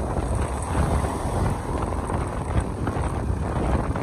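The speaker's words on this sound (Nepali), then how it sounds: "हावाले यस्तो हल्लाइदिएको स्कुटी पहिलोचोटि फिल गरेँ यार मैले" Strong wind buffets a parked scooter outdoors, a loud, steady broadband roar with gusty swells and rattling, close to the microphone and without pause for the whole stretch.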